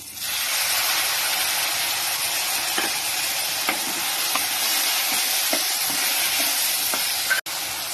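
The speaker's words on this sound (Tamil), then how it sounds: "இப்ப 2 தக்காளி எடுத்து நான் கட் பண்ணி வச்சிருக்கேன். அதையும் சேர்த்து வதக்கிக்கலாம்" Chopped onions and tomatoes sauté in a hot pan, giving a dense, even hiss of sizzling with a few faint taps from stirring and a brief dip just before the end; no one speaks.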